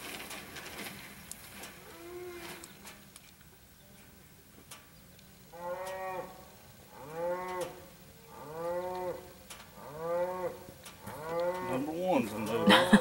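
A cow moos repeatedly near a barn, about six long, drawn-out calls in a row after a quieter start, fairly close, with faint background noise between.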